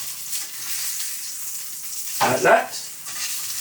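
Salmon fillet frying in a pan just after being turned over, a soft steady sizzle with a brief louder hiss as the fish settles, close by, with a short spoken remark.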